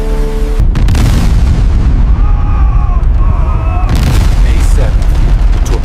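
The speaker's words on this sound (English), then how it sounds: "A second mysterious explosion follows." A torpedo explosion strikes the ocean liner Lusitania, heard as a loud, deep boom with a sharp burst near the start. A heavy, sustained rumble then fills the whole stretch.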